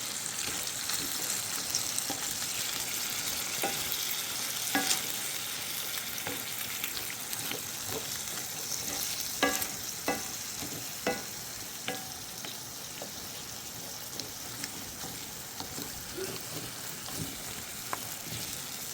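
Meat gravy sizzles and fries in a cast iron pan in a home kitchen while it is stirred vigorously, with scattered scraping and clicking spoon strokes over a steady, close frying hiss.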